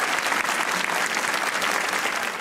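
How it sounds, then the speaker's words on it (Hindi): Steady, dense applause from a studio audience at a Pakistani comedy talk show, filling the moment loudly and evenly with no break. "तालियां होनी चाहिए भाई साहब के लिए।"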